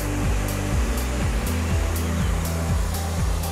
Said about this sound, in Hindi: आप नेचुरल साउंड सुन सकते हैं झरने की।